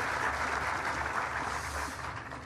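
Audience applause at an outdoor park opening ceremony, a dense, steady wash of clapping that holds loud throughout and eases slightly toward the close.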